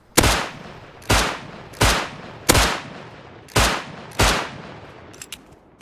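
Six loud, evenly spaced gunshots ring out from a shotgun and revolver in the survival game Rust, each a sharp crack with a short decaying tail, followed by faint metallic clicks.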